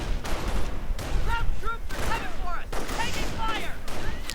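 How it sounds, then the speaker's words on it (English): Rifle fire crackles in a World War II strategy game battle, with dense overlapping shots and scattered bursts over a steady rumble, and game voices call out beneath the gunfire. "Lots of rifle fire."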